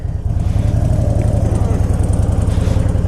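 A Harley-Davidson Ultra Classic motorcycle engine idles loud and close with a steady, throbbing low pulse.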